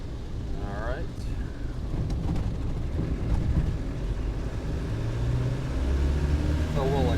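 A 1991 Land Rover Defender 90 with a 200Tdi diesel engine accelerates uphill. A deep, steady engine rumble builds, with brief voice sounds near the start and end.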